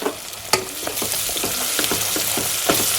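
Onions, garlic paste and green chilli frying in a pan while being stirred, with a steady sizzle under repeated scraping and clinking strokes of the spoon, close and fairly loud.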